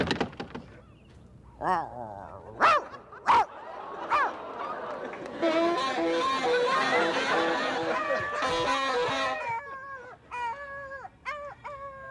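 A dog barks in a series of sharp, separate yelps, then a noisy stretch of mixed sound and voices, with more short barks toward the end.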